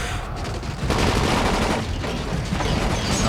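Gunfire in the zombie survival video game Dying Light, a dense, continuous volley of rapid loud shots with booming low end, sounding like several guns firing at once without pause.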